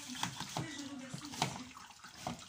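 Hot milk is poured into a strainer holding leftover powdered milk, giving soft splashing liquid sounds in a few uneven bursts at close range.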